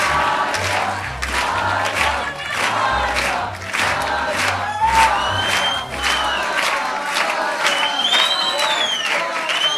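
A crowd at a secondary school graduation claps and cheers loudly, with whoops rising over the applause, then fading into scattered clapping and a few excited shouts.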